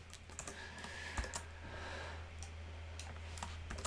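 Quiet computer keyboard typing at a desk, soft irregular key clicks in a short flurry over a low background hum.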